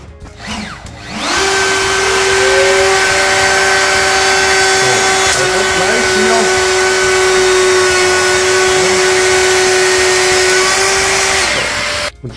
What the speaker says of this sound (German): Und schon habe ich einen sauberen Falz gefräst mit einem sauberen Auslauf.